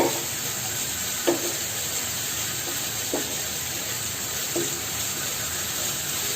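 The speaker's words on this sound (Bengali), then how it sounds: "দেখো বন্ধুরা সুন্দর করে ভাজা ভাজা করছে মশলাটা।" Spice paste frying in a pan for a fish curry with long beans and potatoes, giving a steady broadband sizzle with a few soft stirring scrapes and knocks, close and continuous, with no talking.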